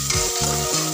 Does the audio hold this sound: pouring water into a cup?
no